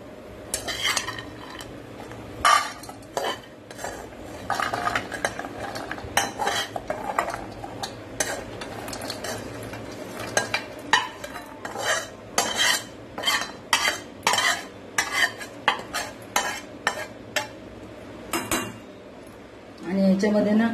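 Dry fruits roasted in ghee are scooped from a pan into a pot, making a long run of metal utensil clinks and scrapes in irregular bursts over a low background hiss.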